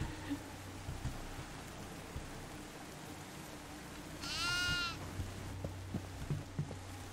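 Goat in a horror video game, a single faint wavering bleat rising midway through a quiet, dark ambient bed with scattered soft thumps.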